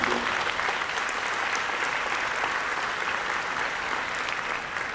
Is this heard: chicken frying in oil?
no